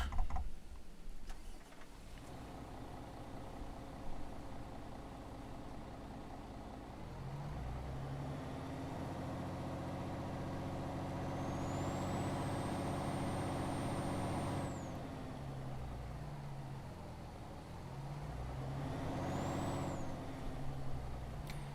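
A MAN TGX heavy truck engine in Euro Truck Simulator 2 cranks and starts, then settles into a deep, steady idle with occasional revs and a rising whine, no talking.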